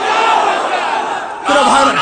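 A rally crowd shouts back in unison after the Naraye Takbir call, a loud, massed roar that swells again partway through.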